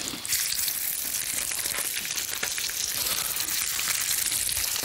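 Shallots fry in a pan with a steady, bright sizzle and crackle that runs loud and unbroken throughout, with occasional stirring.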